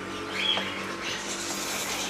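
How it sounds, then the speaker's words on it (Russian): A faint bird chirp or two rises over quiet open-air background noise on a mountain terrace in Spain, where many birds are said to gather. "И, походу, там много-много птиц."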